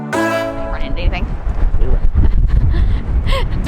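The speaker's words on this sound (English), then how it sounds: "It's very windy today." Strong wind buffets the microphone on a city street walk in Brooklyn, New York, a loud low rumble and gusting roar that runs throughout, with people talking over it at the start.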